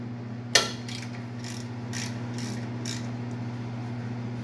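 A wrench breaks loose a brake caliper bolt on a squarebody Chevy with one sharp crack, followed by a few quieter ratcheting clicks over a steady low hum.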